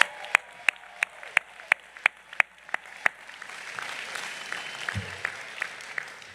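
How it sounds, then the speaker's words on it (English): Audience applause for graduates at the UVA Batten Master of Public Policy graduation ceremony in 2025, beginning with about ten sharp, evenly spaced claps up close, then swelling into broader clapping from the crowd. "Another round of applause for our graduates."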